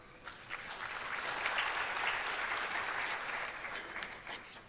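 Steady applause from an audience at the launch of Fourth Industrial Revolution centres of excellence, a dense even wash of many hands clapping for Mr. Hindley, distant and moderate, swelling slightly then fading toward the end.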